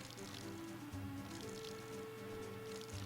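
Water pours from a watering can onto crops in Rune Factory 2, soft squishy dripping splashes over a quiet game music bed.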